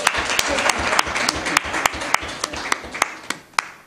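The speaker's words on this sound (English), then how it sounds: "A round of applause." Applause from an audience at a talk show, a steady patter of hand claps with sharp individual claps standing out at a roughly regular beat, fairly close and alone without speech.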